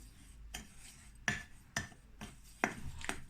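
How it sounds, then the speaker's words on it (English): Rock cake ingredients are mixed in a bowl, giving a few sharp, quiet clinks and scrapes spaced irregularly, close and alone. "Then just mix everything around."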